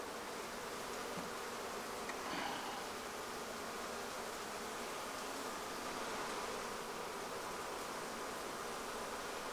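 Honey bees buzz during a pre-winter inspection of a neglected hive with a hive beetle problem. A dense, continuous swarm hum fills the whole stretch at an even, close level without any talk.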